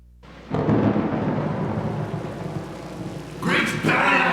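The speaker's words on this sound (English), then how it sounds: "As soon as we get to the pool, it starts to rain." Rain pours steadily with rolling thunder, loud and close, swelling in a burst near the end; no talking is heard.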